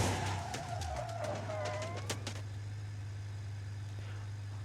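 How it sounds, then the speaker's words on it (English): A car crashes into a building in the BeamNG.drive driving simulator: engine drone and tire skid, then a burst of sharp clattering impacts, followed by a steady low engine hum with no talk. "I will have to crash into a building real quick."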